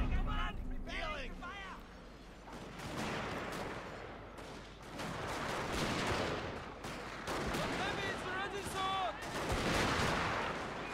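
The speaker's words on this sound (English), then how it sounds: "And now we just gotta keep up with this firefight." Musket volleys and artillery boom through a battle in the video game Shogun 2: Fall of the Samurai, as a steady rolling crackle of gunfire under loud, ongoing voices and chatter.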